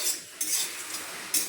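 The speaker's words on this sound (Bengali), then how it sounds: "এই যে মশলাটা ভেজে নিচ্ছি" Spice masala being stirred in a pan with a spoon: soft repeated scraping and metal clinks with a faint background hiss, quiet and close.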